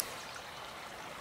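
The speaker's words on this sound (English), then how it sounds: "now we're gonna fill up the waters" A backcountry stream flows steadily while water containers are filled from it, giving a faint, even trickling wash with no pauses and no voices.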